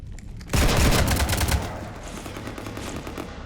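Heavy gunfire rakes a ship in the Mass Effect 3 video game, a loud dense burst of rapid shots that breaks off and leaves a lower rumbling battle ambience.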